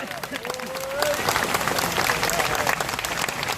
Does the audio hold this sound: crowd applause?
yes